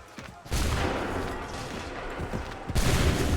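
Assassin's Creed 3 musket volleys roar out, a loud sustained burst of massed gunfire rolling for over two seconds, then a second volley cracking in near the end.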